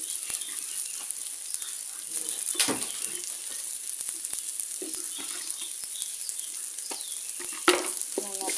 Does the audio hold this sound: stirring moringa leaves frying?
yes